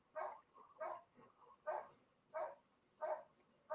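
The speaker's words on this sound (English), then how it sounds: "My dog's going nuts out there." A dog barks repeatedly outdoors, probably at a squirrel. Six evenly spaced barks sound faint and distant, heard from inside.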